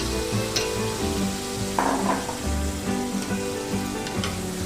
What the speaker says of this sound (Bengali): সেই ম্যারিনেট করা মাশরুমটা এবার আমি এর মধ্যে দিয়ে দিচ্ছি